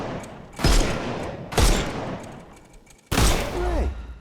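Booming gunshots from the Sherlock Chapter One video game as enemies' armour is shot off: three loud, close blasts spaced about a second apart, each trailing into rumble, with a falling ricochet whine after the last.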